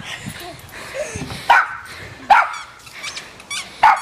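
Chloe, a dog in the middle of a chase, lets out a few loud, sharp barks spaced about a second apart, mixed with yips, whimpers and scuffling nearby.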